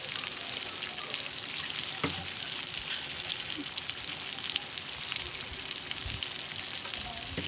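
Green chilli curry masala sizzles steadily in a pan after water is added, a dense continuous crackling fry close by with occasional small pops, no talking.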